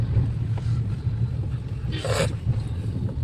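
Gas-powered scooters pass by on a road with a low rumbling engine drone and one brief brighter swish of a vehicle going past midway.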